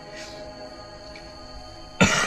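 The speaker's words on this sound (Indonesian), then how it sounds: "gue batuk dari tadi sebenarnya" Single cough from a person in a car parked in a Kalimantan forest near graves, heard at the end as a short close burst over a steady hum of background noise.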